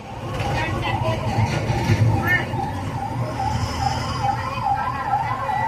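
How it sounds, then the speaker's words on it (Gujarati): A 108 ambulance siren wails with a steady rising-and-falling tone at Yamunotri during the Char Dham pilgrimage, sounding over busy crowd noise and people talking. "અહીંયા પણ એમ્બ્યુલન્સ આવી ગઈ"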